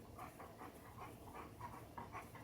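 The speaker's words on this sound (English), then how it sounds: "oh look, it's a dog" A dog pants in quick rhythmic breaths, a steady huffing pattern repeating about every quarter second, fairly close and moderately loud against a constant low background hum.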